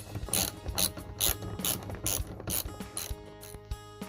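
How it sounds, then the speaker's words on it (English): A 10mm socket ratchet backs out a bolt inside the rear hatch of a Toyota 4Runner, with rhythmic bursts of fast clicking repeated about eight times, close and clear, and no voices. "you will need a 10mm socket to remove this bolt"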